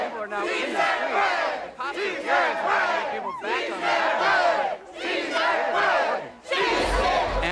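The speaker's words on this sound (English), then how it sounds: "heads amidst a suddenly swollen and screaming crowd. It was so loud, a microphone could barely pick up my voice." Crowd at a May Day protest march spilling into the street, chanting and screaming in loud rhythmic bursts of many voices, each surge lasting about a second and a half with short dips between.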